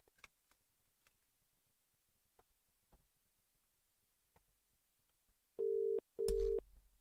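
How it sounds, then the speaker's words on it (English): Faint scattered clicks, then a phone ringback tone sounds twice in two loud, steady buzzing bursts near the end. "You might hear some ringing in the headphones."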